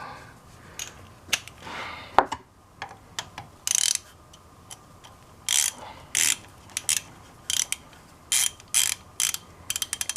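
Ratchet clicks while the rear differential fill plug with an O-ring is snugged on a Polaris RZR 800: short bursts of rapid clicking, close and fairly loud, separated by brief pauses, with no talk.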